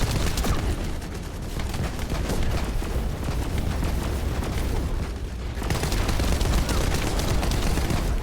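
Dense automatic gunfire and booming blasts fill a hard-mode boss fight against a monster in The First Descendant, loud and nearly continuous, with a brief lull midway.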